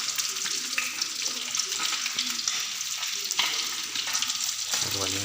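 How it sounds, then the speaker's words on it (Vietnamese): Stream fish fry crisp in a hot pan with a constant, close, bright sizzle and crackle, punctuated by occasional spatters. "đang chiên giòn này"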